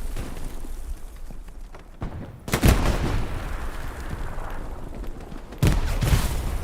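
Grenade explosions and gunfire in Hell Let Loose during a competitive match on the Carentan map: two loud, close booming blasts, one early and one near the end, over a low rumble and scattered distant shots.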